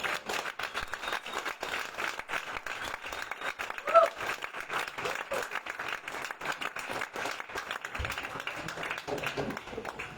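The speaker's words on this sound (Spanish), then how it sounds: "Dale un aplauso a Dios." A crowd claps and applauds steadily for several seconds, a dense sustained patter with voices mixed in.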